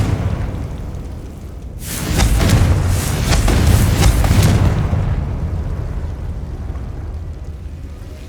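Confringo explosion spell cast in Hogwarts Legacy: a loud, booming blast with crackling bursts that rolls on for a few seconds, then settles into a low rumble.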